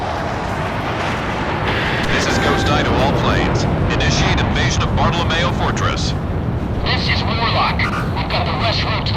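Fighter jets taking off in the video game Ace Combat 6 create a loud rumbling engine roar, punctuated by booming bursts and shifting whooshes that build and surge over several seconds.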